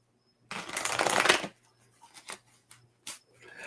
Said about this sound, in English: We get a little shuffle.